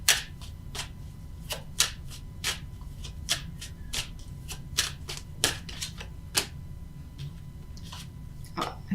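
Tarot cards are shuffled and handled close by, giving a string of crisp, separate slaps and riffles at an uneven pace over a quiet background.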